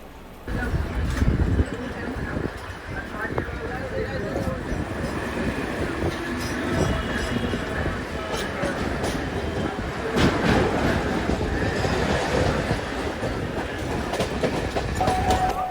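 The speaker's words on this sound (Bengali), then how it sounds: "প্ল্যাটফর্ম ছেড়ে দিল এই ট্রেনের পরবর্তী স্টপেজ দমদম" A Kolkata local train pulls away from the platform toward Dum Dum, its wheels rumbling and clattering steadily over the rails as it gathers pace, with carriage noise and faint voices mixed into the loud, continuous run.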